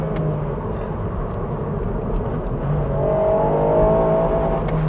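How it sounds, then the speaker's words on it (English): Ford Fiesta ST hot hatch engine blipping up during a rev-matched downshift, a close, continuous engine drone that swells and rises in pitch toward the end over road and cabin noise. "was a lovely rev match"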